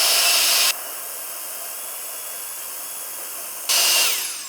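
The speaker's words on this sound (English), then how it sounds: "Now our Violent Fan with the nozzle that comes with it." A brushless ducted turbo jet fan fitted with its nozzle runs at a steady loud, airy roar. The level drops lower for about three seconds in the middle, then surges back to full blast.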